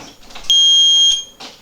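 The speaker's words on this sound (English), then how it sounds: "Okay, the alarm is on." A home alarm triggered by a door being opened sounds one loud, steady electronic tone lasting about half a second, with quieter handling noise before and after.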